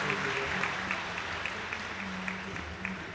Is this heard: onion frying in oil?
no